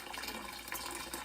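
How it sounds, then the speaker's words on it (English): Water draining out of a steam heating boiler, a short, faint, steady rush of flowing liquid. "you need to take some water out of this boiler during the heating season"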